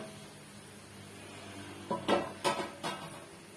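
A few quick metallic clinks and clatters of a pot lid being lifted and set down off a pot of chicken dum biryani, in a quiet room.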